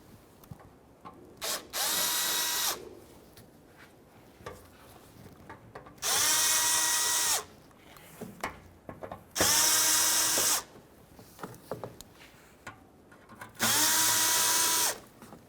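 A power drill backs out Phillips head screws from the front bumper of a 2005-2021 Nissan Frontier, running in four loud, close whirring bursts of a second or so each, separated by quieter pauses.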